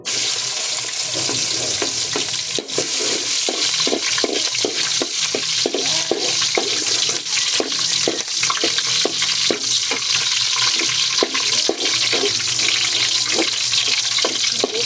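Pancit canton noodles being stirred and fried in a pan, with a steady sizzle and a rapid run of scraping, clattering stirs that carries on throughout at close range.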